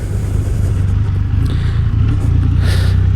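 A Triumph Rocket 3R motorcycle with a 2.5 litre triple engine runs loud and close, holding a deep, steady drone with slight swells in pitch throughout.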